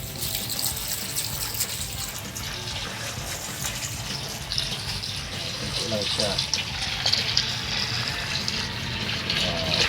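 Water pours and gushes steadily into a container of spicy goat sisig for the whole stretch, with a person speaking briefly in Tagalog over the flow.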